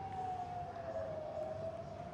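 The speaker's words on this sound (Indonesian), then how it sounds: "sirine peringatan serangan Iran terus berbunyi tanpa henti" A steady, sustained wailing air raid warning siren tone holds nearly level throughout, with a faint background rumble and no voices.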